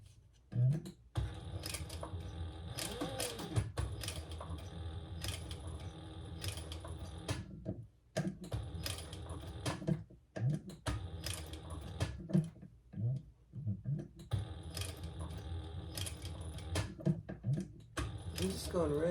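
A sewing machine stitches a crossbody bag at reduced stitch length, running in slow bursts broken by pauses and handling clatter, with a person talking between runs.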